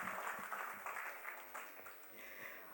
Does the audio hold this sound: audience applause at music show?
yes